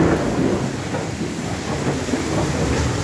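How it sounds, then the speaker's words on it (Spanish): Thunder rumbles through steady heavy rain during a storm at a leaky house, a low continuous roll filling the whole stretch under the downpour's hiss. "¡Ah, un trueno! Y ahí viene el rayo."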